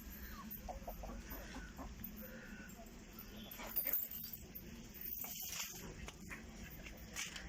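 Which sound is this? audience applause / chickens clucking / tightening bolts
chickens clucking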